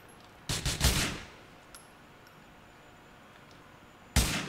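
Gunfire in Grand Theft Auto IV: two quick bursts of shots close together near the start, then a quiet stretch and another loud burst at the end, with no talking over it.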